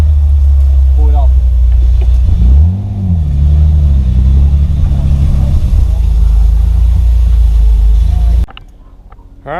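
A twin-turbo Nissan 300ZX drives in a loud, steady low engine drone with a couple of rising and falling rev swells, heard from inside the car, before cutting off abruptly near the end.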